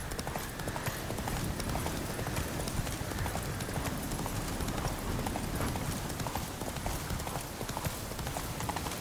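Steady clip-clop of a horse's hooves trotting in The Witcher 3, a continuous rhythmic beat that stays loud and close throughout, with no talking over it.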